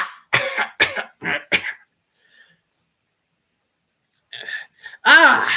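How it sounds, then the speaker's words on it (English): A man coughing over a speakerphone, voiced by a narrator: a rapid cluster of four or five close coughs, a long silent pause, then a few more coughs ending in a throaty voiced sound. "On the speaker, Hammond coughed again."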